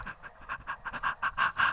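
An old Labrador pants rapidly and close by, in a steady rhythm of short, breathy huffs with no talk over it.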